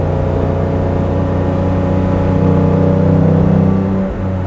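A 1956 Mercedes 300 SL Gullwing with sidepipes and Rudge wheels pulls away under a loud, steady engine drone that swells slightly as it accelerates, then briefly dips at the end.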